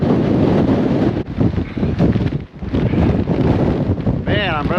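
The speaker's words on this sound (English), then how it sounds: "it is windy as hell up here" Strong wind gusts buffet a microphone on the exposed summit of Mount Monadnock in 20°F cold, a loud continuous roar that surges and briefly drops, with no clear talk.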